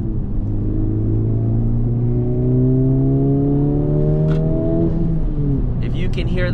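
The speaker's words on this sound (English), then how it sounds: "that is the intake making that whoosh sound, and the AWE Touring exhaust that I have on the car" Honda Civic Type R FL5 with an aftermarket intake and AWE Touring exhaust, heard from inside while driving: a steady engine drone climbs in pitch under acceleration, then eases off near the end with a soft intake whoosh.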